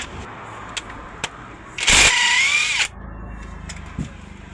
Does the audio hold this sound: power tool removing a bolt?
yes